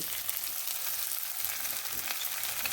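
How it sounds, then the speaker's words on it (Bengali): Ginger and garlic frying in a pan for a restaurant-style mixed vegetable dish, a steady bright sizzle with faint stirring, continuous and close throughout, no voices. "আদা রসুনটা কিছুটা ভেজে এবার দিয়ে দেবো গুঁড়ো মশলা"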